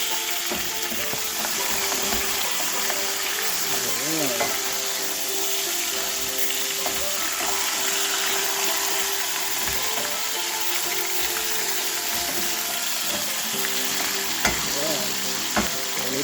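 Bone-in hind shank beef stew, Caribbean style, bubbles and sizzles steadily in a pot while a utensil scrapes and stirs through it, with occasional clinks against the pot and no talking.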